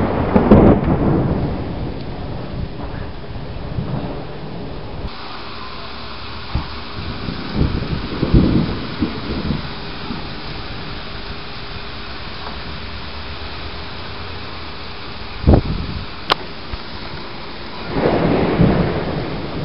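A thunderstorm with heavy rain and loud rolling thunder, several booming rumbles rising and fading over steady downpour, one sharp crack near the middle and another rumble building at the end.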